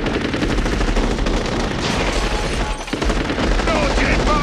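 Dense, sustained rapid gunfire fills a shootout scene from the comedy film trilogy Naked Gun (Y a-t-il un flic?). The bursts are loud and continuous, with voices faintly mixed underneath.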